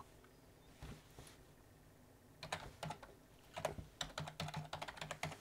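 Computer keyboard keys are typed to sign in to a WordPress site, a few isolated taps at first, then quick bursts of close, crisp clicking in a quiet room.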